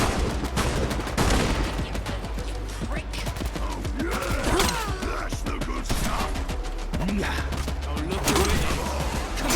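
Gunfire in the Fallout London video game as turrets are shot apart, with repeated dense bursts of shots and impacts, loud and close over a continuous rumbling game background, with a voice talking briefly.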